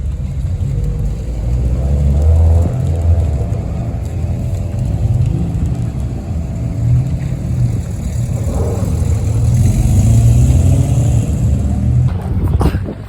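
A classic Mini's engine runs steadily near the line at a Sandown sprint on the Isle of Wight, a loud, continuous mid-pitched drone with mild swells in revs and a brief rise near the end.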